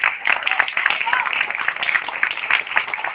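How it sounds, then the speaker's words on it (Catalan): Crowd applause with dense clapping from a live-band concert audience, steady and sustained throughout, with voices mixed into the noise. "Sisplau, un aplaudiment per ells."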